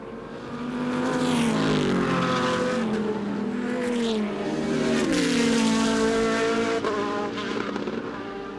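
GT race cars in the Supercar Challenge at Zandvoort roar past loudly, engines rising and falling in pitch as they speed by close, a continuous blare of multiple cars.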